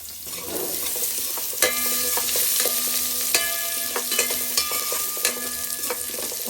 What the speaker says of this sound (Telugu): ఇప్పుడు ఇదంతా పచ్చివాసన పోయేంత వరకు ఫ్రై చేసుకోవాలి.